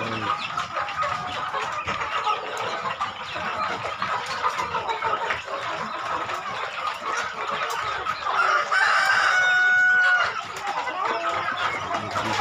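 Chickens and a rooster on Dinagat Island, clucking steadily throughout at close range, with a rooster's crow rising clearly near the end.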